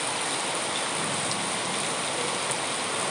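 Rain falling on trees across a hillside, a faint, steady hiss of drops with no breaks, distant and even throughout.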